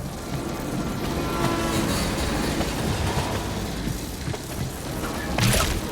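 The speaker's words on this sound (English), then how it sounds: "And where are these train cars rushing off to? And underwater at that." Underwater train cars rush past in the video game Atomic Heart, a dense continuous rumbling roar with clattering and a brief crash-like burst near the end.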